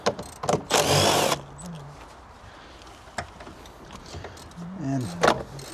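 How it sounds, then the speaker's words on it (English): A power driver runs M6 bolts into a Chevrolet Silverado during an airbag suspension rebuild. One loud, close, high-pitched whirring burst lasts under a second, followed by quieter clicks and handling noises. "screwing 2 bolts"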